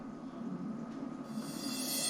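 A reversed, processed cymbal crash in a saxophone-driven music track, a hissy wash that swells steadily louder toward the end and builds into a bright, full rush.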